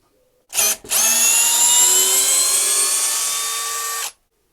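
A Makita-clone brushless 18V drill driver drives a screw into wood in one steady, loud run of about three and a half seconds, its motor whine holding even after a brief stutter at the start.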